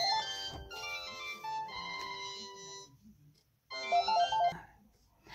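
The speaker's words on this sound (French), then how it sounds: "c'est un coup de téléphone de ma maman" A phone ringtone plays in a home crafting space, a melodic electronic tune repeating in two bursts with a short gap, loud and close, with faint background noise.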